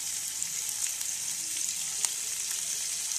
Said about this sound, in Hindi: तेल गरम हो गया है, अब हम इसमें जीरा डालेंगे